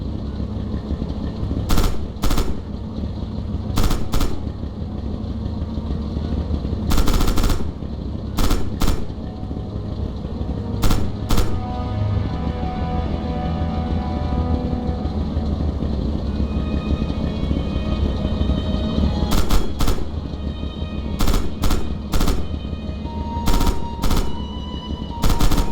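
Tank hull machine gun in Red Orchestra 2, firing in repeated sharp bursts of rapid shots separated by pauses, over a constant low engine drone and rattle.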